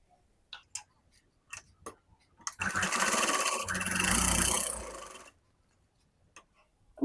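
A sewing machine stitches a katori-style blouse in one steady run of about two and a half seconds. Separate sharp ticks and clicks come before and after the run in a quiet room.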